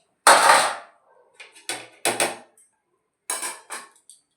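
A ladle and metal dishes clink and clatter while rice is served at a home meal, several short sharp knocks with brief silences between them.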